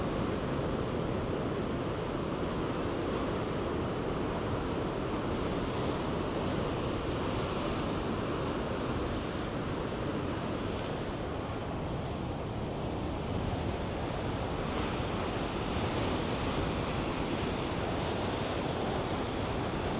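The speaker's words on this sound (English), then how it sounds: "Just hearing those waves crash off the shore and just watching them come in like that is worth the trip out here." Heavy ocean swell breaks against the rocky shore at Cape Spear, a continuous loud roar of surf with churning rumble and hiss that never lets up, heard alone without any talking.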